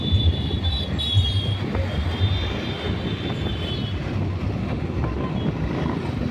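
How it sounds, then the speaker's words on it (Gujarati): A train pulling into Junagadh railway station gives a loud, steady low rumble that runs the whole time, with a faint high whine above it and no break in the sound. "જો આપણી બીજું જેતપુરની ગાડી આવે છે"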